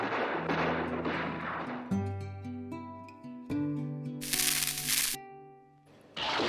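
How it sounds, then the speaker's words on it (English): An 1892 Winchester rifle fires in a twilight mountainside shootout in a Western film, with sharp, loud, broadband cracks in short bursts over a tonal film score. "James Stewart holds off a crooked posse with his 1892 rifle in a mountainside shootout in the twilight"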